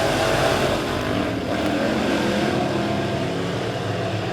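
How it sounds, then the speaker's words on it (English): Modified race cars roar around a speedway oval off turn four, three wide, in a continuous loud engine drone that holds steady throughout with no talk. "Here they come off turn number 4, still 3 wide for second as Gary Krebs leads lap number 1"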